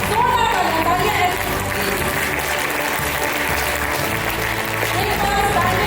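Dense, steady audience applause fills an awards-night hall in Lucknow, loud and continuous for the whole stretch with no pause.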